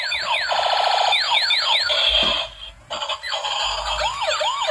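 A toy police siren wails in rapid rising-and-falling electronic sweeps, loud and close, with a brief pause before the whooping resumes.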